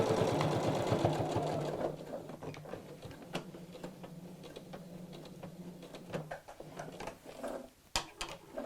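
A sewing machine runs a fast, steady stitch as it finishes and locks the end of a rucksack seam, then slows into short bursts and pauses with small clicks and handling noises, close and alone.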